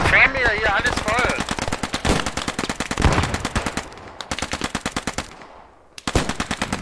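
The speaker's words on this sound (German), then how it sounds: "Geht die Knallerei schon los." Gunfire in the World War II shooter Post Scriptum: rapid, loud machine-gun bursts in long rhythmic strings, one weapon firing near and others farther off, with brief pauses between bursts.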